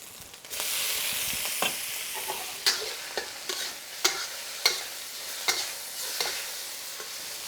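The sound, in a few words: tomatoes frying with egg in oil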